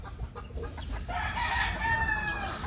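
A Mitra Blue hen clucks and calls nearby in a short, clear run of vocalizations, with light farmyard background.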